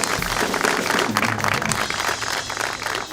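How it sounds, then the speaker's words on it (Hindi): A studio audience on a television show claps loudly and continuously, the applause mixed with a low background hum and some indistinct crowd sound, no clear speech on top. "इन बच्चों के लिए बहुत सारी तालियां।"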